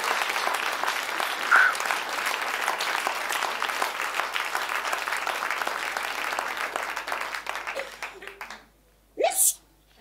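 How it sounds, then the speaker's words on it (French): A festival audience applauds a speaker with sustained, fairly even clapping for about eight seconds, then it fades out and a brief voice is heard. "je vous demande de l'applaudir en effet."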